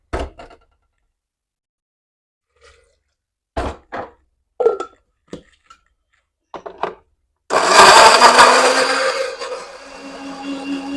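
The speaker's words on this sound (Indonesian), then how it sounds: "Bunda mau blender dulu untuk bumbu saus padang" An electric kitchen blender grinds spices for a Padang-style shellfish sauce, starting loud and steady after some scattered clunks and handling noises, then easing off toward the end.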